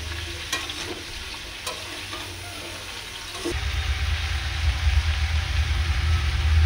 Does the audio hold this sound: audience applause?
no